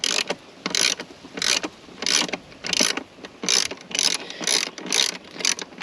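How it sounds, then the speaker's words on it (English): A ratchet wrench loosens 13mm bolts on a Chevrolet Suburban seat frame, clicking in about a dozen close, rhythmic bursts of rapid ratcheting with brief pauses between strokes. "we got 2 bolts here. These are 13mm. Let's go ahead and take those loose"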